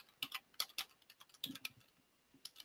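Typing on a computer keyboard: a few quick, crisp key clicks in small bursts with short pauses, close and fairly quiet, with no voices.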